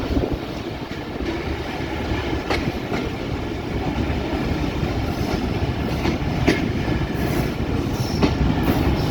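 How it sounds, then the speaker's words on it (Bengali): Rajbari Mail passenger train pulling into Talma railway station, a steady loud rumble of wagons with rhythmic clickety-clack of wheels over rail joints and occasional squeals, heard from on board with no voices. "এই মুহূর্তে ট্রেন তালমা রেলওয়ে স্টেশনে প্রবেশ করতে চলেছে"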